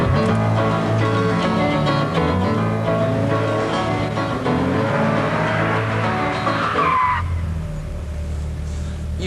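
A Ferrari 355 is driven hard around a race track, its engine wailing loudly through shifts while tires squeal and skid, the noise dropping away abruptly near the end.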